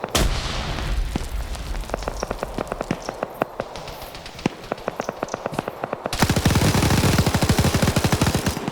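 MG42 machine gun fire in a PvP video game match: rapid rattling bursts of automatic fire, sparser shots early on, then a sustained, louder, dense stream of rounds near the end, close and loud.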